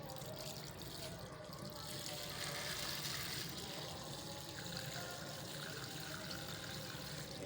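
Water from a shower head pours steadily onto a potted plant, a soft continuous splashing and trickling that stays close and even throughout.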